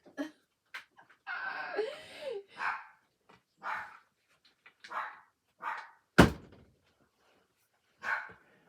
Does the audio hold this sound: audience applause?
no